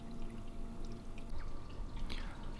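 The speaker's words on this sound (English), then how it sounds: "I'm guessing I'll probably have to do this maybe 4 or 5 times to get it flushed out" Water pours and trickles faintly while a custom PC water-cooling loop is flushed, giving a soft, uneven splashing with a few small drips and no speech.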